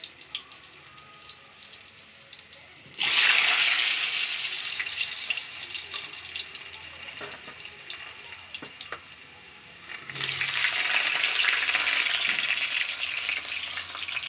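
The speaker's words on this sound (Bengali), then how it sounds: "এবার আমি আলুগুলো সব এক এক করে সব ভেজে নেব" Potato pieces dropped into hot oil for homemade biryani, heard as two surges of loud, crackling sizzle that settle into a steady close frying hiss, with no talking.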